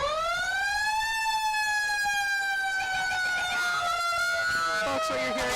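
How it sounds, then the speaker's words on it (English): At a Fourth of July parade in Hingham, sirens from two fire trucks sound as a loud, steady tone that slowly slides downward, with overlapping siren layers near the end. "what you're hearing are sirens from, it looks like 2 fire trucks right now."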